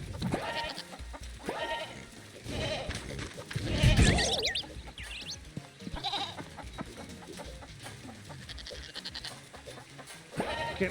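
Several goats bleat in the Moving Out 2 game, the wavering calls clustering around a loud chaotic burst in the middle, set against continuous game sounds and music.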